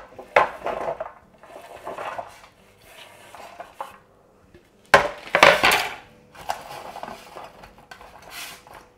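Cauliflower pieces being chopped with a knife in a kitchen: irregular clusters of sharp knocks on a board, with a louder flurry of cuts in the middle.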